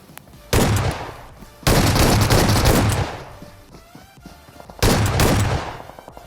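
Gunfire from the mobile battle-royale game BGMI during a one-on-one fight involving a shotgun: three loud, dense bursts of rapid shots with short quieter gaps between them.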